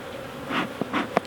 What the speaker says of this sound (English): So just clear these bees off of here